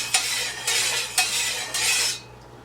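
A spoon stirs sugar into hot sweet tea, bright clinking swirls against the glass in four sweeping strokes, close and fairly loud with no talk.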